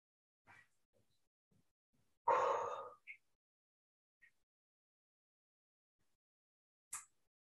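Deep breaths during a vinyasa yoga session: a few soft, quiet inhales spaced apart, then one fuller, louder airy breath lasting about half a second, with later brief faint breath sounds and a short sharp exhale near the end.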